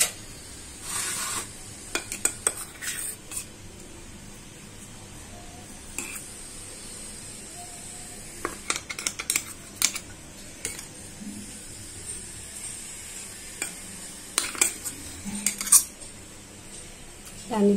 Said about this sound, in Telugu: అన్నిట్లలో కొంచెం కొంచెం వేసేసుకొని అన్ని మంచి కలిసేలాగా కలిపేసుకుందాం